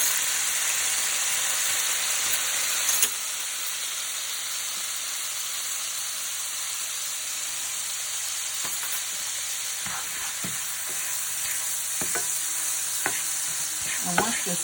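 Pecans glazing in butter and a splash of water sizzle and hiss steadily in a hot pan, a loud continuous fry with occasional stirring clicks and scrapes toward the end.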